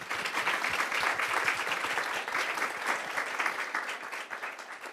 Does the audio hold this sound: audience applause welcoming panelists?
yes